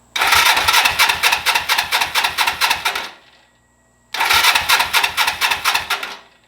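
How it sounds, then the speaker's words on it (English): 1982 Suzuki GS300L motorcycle with a fresh starter relay cranking: two loud, close bursts of rapid, rhythmic starter churning, each about three seconds long, separated by a short pause. "So I should be able to touch this and the bike should at least try to turn over."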